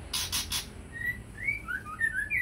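Several short, bright white-rumped shama chirps and whistled calls ring out from breeding cages after a few sharp broadband bursts, set against a low background rumble.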